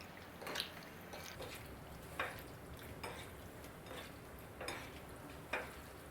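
Chicken breast mixed by hand with cooking wine, soy sauce and oyster sauce, giving soft wet squelches and squishes at an irregular pace, quiet and close with no talking.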